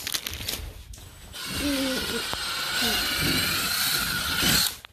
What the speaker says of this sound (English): So I'm just pre-drilling the hole and then I can go with this.